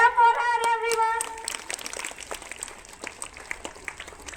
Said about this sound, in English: Clap for her, everyone.